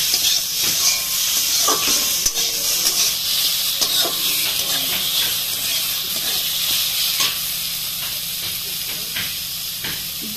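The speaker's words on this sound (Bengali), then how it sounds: "তেল গরম হয়ে গেছে এবার আমি দিয়ে দেব কুমড়ো পাতা সেদ্ধ করা দিয়ে হালকা করে ভেজে নিব" Boiled pumpkin leaves going into hot oil in a pan, giving a steady loud hissing sizzle throughout with faint clatter, and no voice over it.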